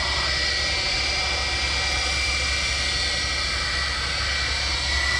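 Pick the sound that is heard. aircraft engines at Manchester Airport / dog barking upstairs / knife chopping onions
aircraft engines at Manchester Airport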